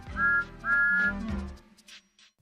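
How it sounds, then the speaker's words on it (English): Two short, clear whistle toots from Thomas the Tank Engine, a small steam tank engine, sound close and loud, followed by fading low rumble. "Thomas always whistles peep peep in return."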